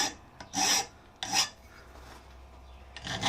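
A hand file rasps a 45-degree bevel onto a steel slitting punch, three or four short scraping strokes at close range with pauses between, no talk.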